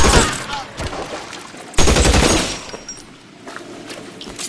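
Gunfire in the crime video game L.A. Noire: loud, close bursts of rapid shots in two dense volleys, tapering off toward the end.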